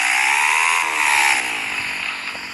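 A Honda Titan 170 motorcycle engine revs indoors in a kitchen, giving one loud, close, buzzing whine that climbs and then slowly falls in pitch, echoing off the walls.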